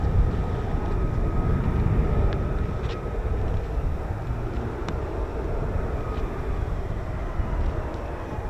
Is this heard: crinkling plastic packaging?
no